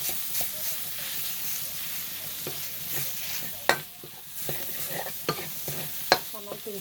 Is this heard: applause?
no